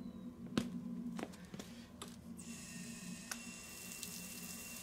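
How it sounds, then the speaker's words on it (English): Water runs and hisses steadily through a waterjet cutter nozzle, with a few sharp clicks and a brighter spray rising toward the end. "Let's go ahead and feed it some water."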